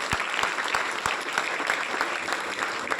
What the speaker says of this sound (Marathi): आम्हा सर्वांकडनं तुमच्यासाठी एकदा जोरदार टाळ्या झाल्या पाहिजे